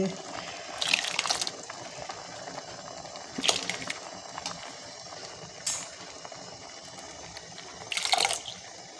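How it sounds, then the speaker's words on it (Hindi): Boiled milk poured into a pot of mashed carrot kheer: soft liquid splashes in three separate bursts over a low, continuous background hiss. "अब मैं दूध डाल लूँगी।"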